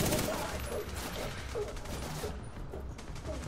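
Rapid bursts of gunfire from the video game The Division 2, faint and continuous, with clustered shots rattling along steadily.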